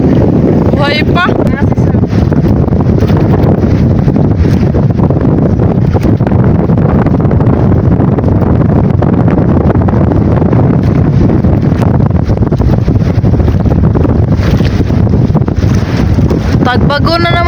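Strong wind buffets the microphone at sea in a small fishing boat, a loud, continuous roaring rush with waves sloshing beneath and people talking over it.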